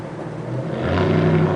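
A car engine with loud mufflers rumbles low and throaty, its exhaust growing louder and rougher partway through as the revs climb.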